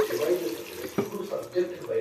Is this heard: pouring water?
yes